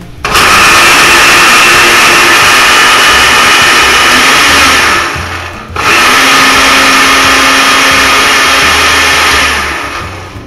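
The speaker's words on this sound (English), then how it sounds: "I'm just going to give it a whir in the blender" A blender whirs loudly and steadily through cooked taco sauce, stops briefly, then starts again and runs for several more seconds before tapering off.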